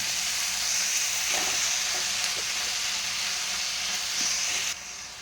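Onion, green chili and tomato fry hard in a pan for mutton chops. A loud, continuous sizzle carries a few light stirring knocks, then drops slightly near the end.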